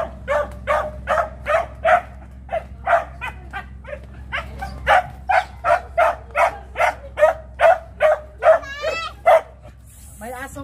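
A dog barks in a steady run of about eighteen sharp, evenly spaced barks, close and loud, with a few whimpering yips near the end, over a low hum at a rural family house in the Philippine provinces.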